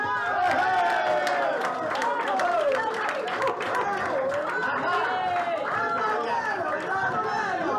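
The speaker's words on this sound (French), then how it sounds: "Ils s'en viennent, on les applaudit" A crowd greets Santa Claus and Amandine with clapping and lively chatter. Loud voices and shouts sit over scattered applause throughout, with people talking close by.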